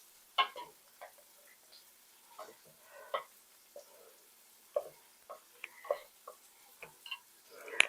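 Blue cheese being stirred into a mac and cheese casserole, a series of soft, irregular scraping and clicking strokes close by, with brief gaps between them and no talk.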